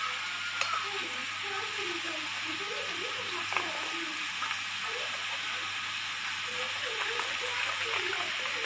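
Spice masala of salt, turmeric, red chili, garam masala, dried mango and ground coriander, with water added, bubbles and sizzles softly in a cooking pan as it is stirred, a steady hissing simmer under faint background voices.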